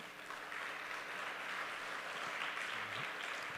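A church congregation applauds steadily throughout, a dense, even wash of clapping heard from within the room.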